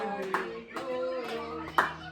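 A child claps hands at a family birthday celebration, a few separate soft claps spaced out over a steady tonal background with faint voices nearby.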